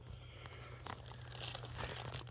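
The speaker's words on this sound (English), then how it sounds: "we're gonna put them in this plastic bag" A plastic bag crinkles and rustles in close, soft bursts as freshly picked spring oyster mushrooms are placed inside it outdoors, with a low steady hum underneath.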